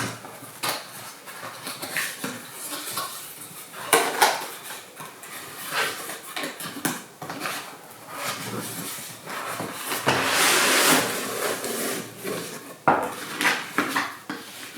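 Camping cookware pots from a compact cooking set clank and rattle as they are handled and unpacked, with irregular metallic knocks and clatters throughout, fairly close and moderately loud.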